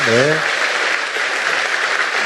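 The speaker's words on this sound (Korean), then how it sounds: "박수 한번 주세요, 여러분" A church congregation applauds during a recorded public broadcast, dense sustained clapping filling the room after a brief spoken voice at the start.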